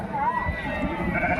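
Sheep bleating at the Gudur livestock market, a few wavering calls rising over a busy crowd murmur with people talking nearby.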